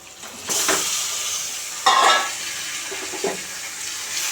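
Washed chicken pieces drop into hot frying masala with a wet hiss and sizzle, followed by scraping stirs in the pan, close and fairly loud with no talk.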